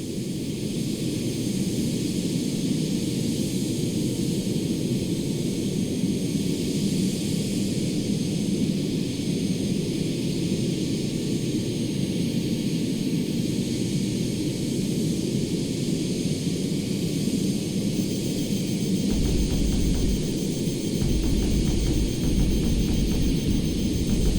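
An F/A-18 jet in the video game Arma 3 roars continuously, a steady broadband engine rush with a low rumble that holds loud throughout, thickening near the end.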